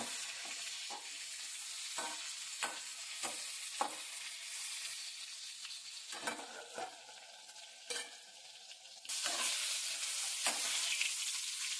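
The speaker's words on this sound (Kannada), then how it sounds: "ಇವಾಗ ಇವು ಮೆಣಸಿನ್ಕಾಯಿ ಹುರಿದಾಗಿದೆ" Green chillies fry in a pan for a chutney, giving a steady sizzle broken by repeated scraping stirs, close and clear with no talk.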